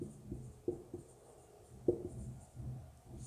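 A pen scratches out a formula by hand in short, faint strokes and taps, with quiet pauses between marks in a still room.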